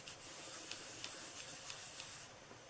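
Watercolor paper rubbed firmly by hand over a freshly stamped image: a steady soft brushing friction with faint repeated swipes, close and quiet, no voices.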